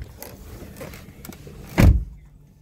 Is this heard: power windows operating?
yes